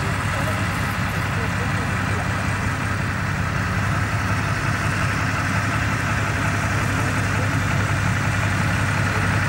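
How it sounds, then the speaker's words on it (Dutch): A WWII Stuart tank idles on its twin Cadillac V8 engines coupled to one drive shaft at a wartime vehicle event in Oeselgem, Belgium, giving a loud, steady, deep rumble that holds throughout, with voices underneath. "dit type hier heeft twee Cadillac V8 motoren, gekoppeld op één aandrijfas"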